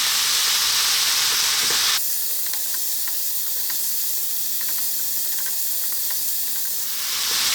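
Black pepper, garlic and ginger stir-frying over lively heat in a pan for chicken broccoli: a loud, steady, close sizzling hiss that shifts in tone near the start and end.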